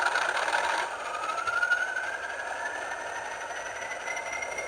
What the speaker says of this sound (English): let's turn the engine sounds on and see what they sound like